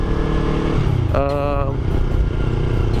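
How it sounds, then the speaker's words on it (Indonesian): Yamaha YZF-R25 motorcycle engine with a faulty water pump, running hot: a steady, loud mechanical drone with a brief whining, pump-like tone rising above it, recorded close. "saat mesinnya panas itu terdengar suara seperti suara pompa air"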